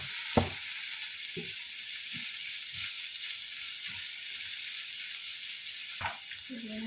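Chicken breast laid into a hot pan gives a steady bright sizzle that runs throughout, with a few soft knocks and clinks of utensils, a sharp clatter near the start and another near the end.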